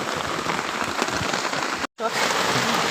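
Steady rain falling outdoors in a village, a dense, even hiss of drops on surfaces, loud and continuous, with one brief dropout near the end.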